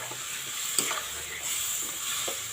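Fish curry masala for ilish is sautéed in a wok, giving a soft, steady hiss and sizzle with a few faint stirring scrapes, fairly quiet and close.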